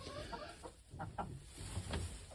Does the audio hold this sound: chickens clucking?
yes